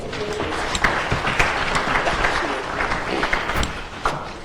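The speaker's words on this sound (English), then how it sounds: "Let's give them another round of applause." An audience at a contact centre industry conference panel in Zimbabwe claps for the panelists, a dense continuous patter of hands at moderate loudness with some louder individual claps.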